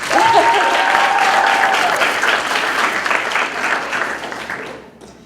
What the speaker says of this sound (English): Clap it up for the juniors.